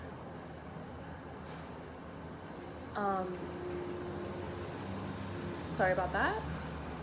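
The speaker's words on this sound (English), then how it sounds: "I'm sorry, the train." A passing train rumbles low and steady in the background throughout, under a voice in an indoor tarot reading.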